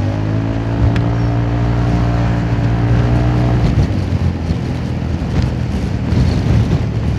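A Honda Forza 350 scooter fitted with a racing air filter revs up close by, its engine note rising from a steady drone into a rough, loud acceleration with wind buffeting the microphone.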